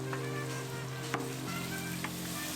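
Minced pork fries in vegetable oil over the highest heat in a pan for Sapporo miso ramen toppings, a steady quiet sizzle with a low hum and a couple of light clicks from the utensil.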